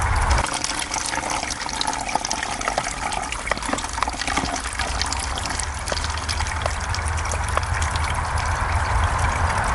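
Filtered water runs in a steady, close trickle into a water bottle out in the backcountry, gushing continuously with no voices.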